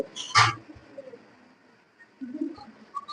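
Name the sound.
Jabra pigeons cooing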